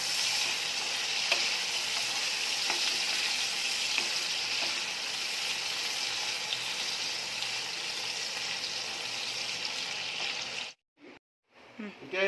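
Assamese sour fish curry frying and sizzling in a pan, a steady close hiss with soft stirring scrapes throughout, cutting out briefly near the end.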